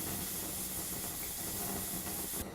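A pressure cooker of mutton curry, just taken off the stove, vents steam in a steady, continuous hiss that holds at an even level, then ends with a brief louder bump.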